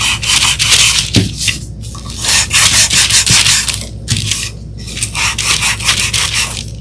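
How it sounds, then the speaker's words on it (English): A small wooden birdhouse is sanded by hand with a nail file, giving close, loud, rhythmic rasping strokes in quick back-and-forth bursts with brief pauses between them. "so we go in with sandpaper. I often use a nail file"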